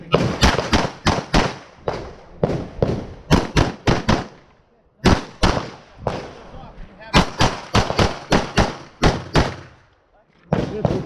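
Gunshots crack in quick bursts at a USPSA shooting match, strings of close, loud shots separated by short pauses for reloads, echoing sharply across the range.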